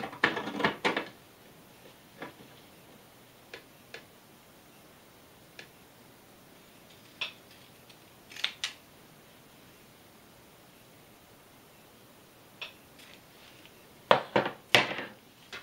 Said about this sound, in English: you're going to use a pinking shears and trim away the very edge